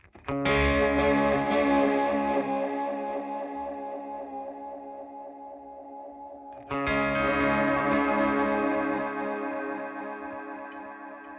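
An electric guitar chord rings out through a Strymon Volante tape echo pedal in drum mode, swelling with repeating echoes and wobble, fading slowly before a second chord is struck and decays.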